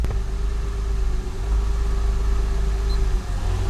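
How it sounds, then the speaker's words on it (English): An Acura car engine hums at a low idle, a steady rumble with a sustained mid-pitched drone as the clutch is released into gear, and no one speaks. "Release the clutch, okay. Okay, goes into gear."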